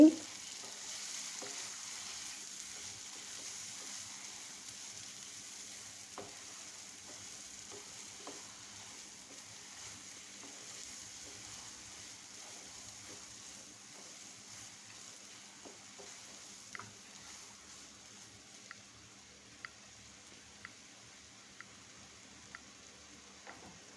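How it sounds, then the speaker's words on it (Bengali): Beef brains frying in hot oil in a pan while being stirred: a quiet, steady sizzling hiss with scattered light clicks and scrapes from the stirring, growing more frequent toward the end. "তেল গরম হয়ে গেলে দিচ্ছি মগজ দিয়ে দিচ্ছি মেখে নেওয়া মগজ এখন নেড়ে চেড়ে দিচ্ছি"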